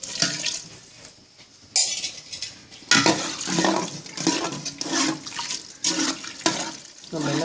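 Thin tamarind extract, from about three lemon-sized balls of tamarind, poured into a rice pot for tamarind pongal, splashing in uneven bursts with pot clatter, near and fairly loud, with no talking.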